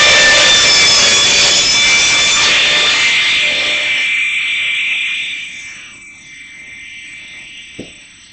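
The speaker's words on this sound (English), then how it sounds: "I think we're going to trim these ends down." A power saw trims the ends of a glued-up wooden Shaker-style cabinet door, a loud, steady, high-pitched whine that winds down to quiet near the end, then a single sharp knock.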